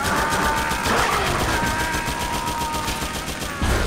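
Gunfire in Metal Gear Solid 4, a steady stream of rapid shots forming a dense, continuous wash over a game soundscape, loud throughout and ending abruptly near the close.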